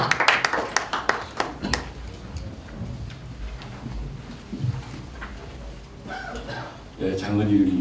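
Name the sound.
audience applause welcoming a speaker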